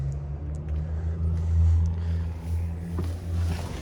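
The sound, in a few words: 1963 Chevrolet Bel Air 327 V8 engine hot start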